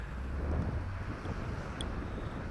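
Steady outdoor wind in snowy winter weather around minus 6 to 10 degrees, buffeting the microphone with a continuous low rumble and a constant broadband rush, close and fairly loud with no voices.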